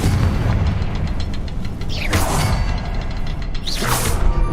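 Magical blasts from the Confringo fire spell in Hogwarts Legacy, two deep booming explosions with whooshing tails over a low rumbling game backdrop, loud and close.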